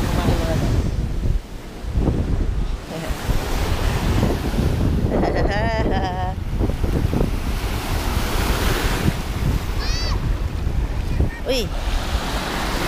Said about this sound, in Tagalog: medyo lumaki yung alon mga guys. High tide pala siya.